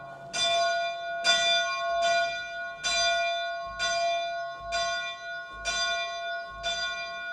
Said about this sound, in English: Listen to that bell chime.